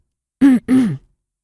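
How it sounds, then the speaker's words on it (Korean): Two loud, deliberate throaty coughs in quick succession, close up, with silence before and after. "기침을 크게 2번 했어요"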